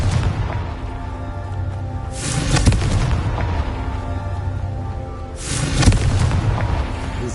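Two booming Confringo fire-spell blasts in the Hogwarts Legacy video game, each a loud explosive burst, spaced a few seconds apart over a continuous low rumble of game sound.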